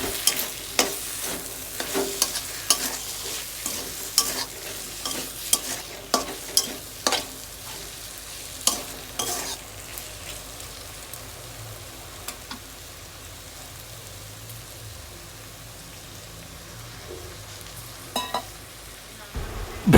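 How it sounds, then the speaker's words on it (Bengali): Kochur loti stir-fried with spices in a frying pan, a soft sizzle under a run of sharp spatula scrapes and taps that thin out to a quieter steady fry, close and without talk. "এবার এইগুলো মশলাগুলো দেওয়ার পর ভালো করে নেড়ে নেব"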